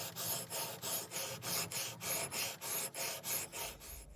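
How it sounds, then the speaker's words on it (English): Steady rhythmic rasping strokes of a metal file sharpening the bevel of an Arvika axe head, about eight close, even back-and-forth passes with no talking. "now finished all the filing, got a pretty good primary bevel"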